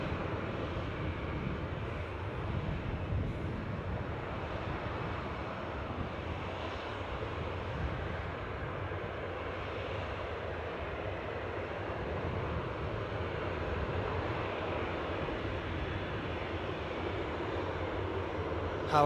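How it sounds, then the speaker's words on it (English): A passenger airplane descends to land at Newcastle airport, skimming over a hedge line to touch down on the runway, its steady broadband engine roar sustained and fairly loud throughout without any voices. "they shoot over the hedge line and make the touchdown on the runway"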